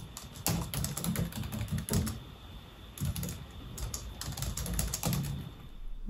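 Rapid, loud clacking keystrokes on the keyboard of a 2005 Dell Latitude laptop with an Intel Pentium M, typed in quick bursts with brief pauses, close up and without talking.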